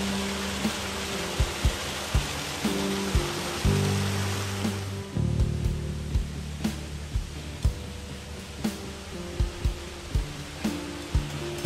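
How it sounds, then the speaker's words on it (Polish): A waterfall in Cedynia Landscape Park, Poland, roars steadily beneath rhythmic music with a beat; the water is louder at first, then eases. "napotkamy malowniczy wodospad"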